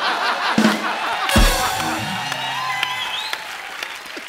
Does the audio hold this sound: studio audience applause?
yes